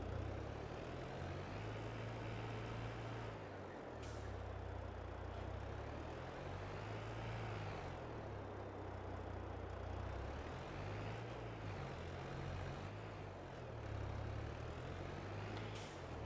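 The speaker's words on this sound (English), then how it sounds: "This is not the most powerful tractor in the world." A modest tractor engine in a farming video game drones steadily while compacting, a continuous loud low rumble with slow cyclic swells in pitch, and no talk over it.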